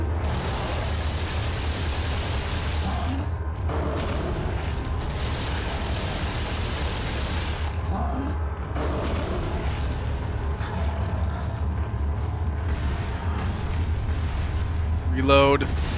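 TMP machine pistol fire in Resident Evil 4 during a boss fight, short rattling bursts over a constant loud rumbling game background, with someone talking at points.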